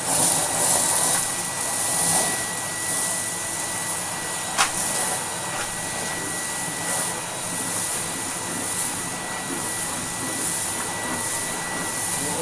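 Restored 1980s Electrolux Z2000 canister vacuum running steadily on carpet, a continuous broadband whoosh with a faint whine, loud and close throughout, one brief click near the middle.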